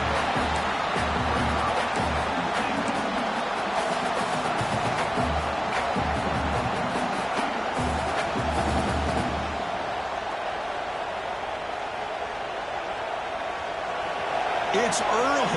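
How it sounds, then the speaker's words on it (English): Football stadium crowd at a Michigan versus Rutgers game roaring and cheering, a dense continuous crowd wash under a play-by-play commentator talking throughout. "It's early, but this crowd is fired up."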